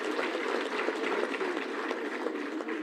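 Delegates at an ANC regional conference give a sustained round of applause, a thick, continuous crowd clapping that holds steady at close range and has no speech in it.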